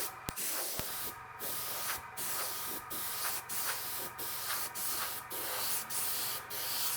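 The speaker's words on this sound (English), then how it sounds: "I'm not just really spraying the whole way through" Food colouring is sprayed from an airbrush onto a cake to create a sandy beach texture with waves, giving close hissing bursts that start and stop in short pulses over a constant low hum.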